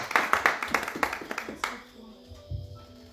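Church congregation clapping during a French-language service, brisk loud rhythmic claps for about a second and a half, then fading into murmured voices and a low thump.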